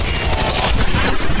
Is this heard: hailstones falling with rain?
no